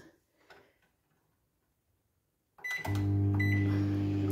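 A few faint clicks, a pause of near silence, then a microwave oven starts with a loud, steady hum.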